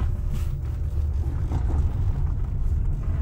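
A small car runs with a steady low engine rumble while being driven onto a transporter during loading in France, close and continuous throughout.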